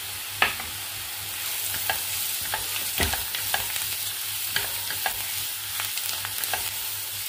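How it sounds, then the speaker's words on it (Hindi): Garam masala, red chili and other spices sizzle as they roast in a pan, with a soft steady fry and repeated scraping stirs of a spoon, close and without talk. "मसालों को अच्छे से भून लेंगे।"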